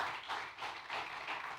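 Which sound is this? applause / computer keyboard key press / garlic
applause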